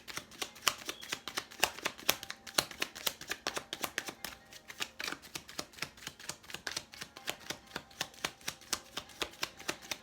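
A deck of Pure Love Oracle cards is shuffled close up, producing a steady run of crisp, rapid riffling clicks and flutters that continue without pause, with no talking.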